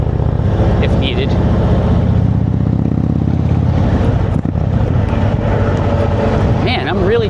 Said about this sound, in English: The bike is riding really smooth, smoother than it has since I bought it